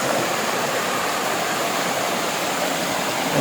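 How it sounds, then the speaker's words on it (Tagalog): Steady rushing of flowing river water at Baggao Blue Lagoon, Cagayan Valley, loud and continuous, like a river or small cascade close by, with no other sounds. "Dinig na po yung agos ng tubig."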